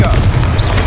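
Confringo spell explosion in Hogwarts Legacy, a short, loud, booming blast with a heavy low rumble that fills the entire second.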